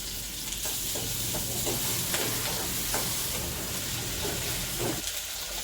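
Onions and curry leaves sizzle steadily in a frying pan, a continuous crackling hiss with occasional stirring scrapes, close and moderately loud, no voices.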